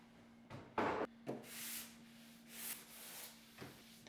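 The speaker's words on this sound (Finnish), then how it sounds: "Pieni hionta" Light hand sanding of a mid-century wooden dining table before its final oil-based poly coat, several short scratchy rubbing strokes, close and quiet, over a faint steady hum.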